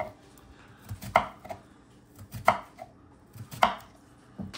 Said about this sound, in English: All right, then we just slice them.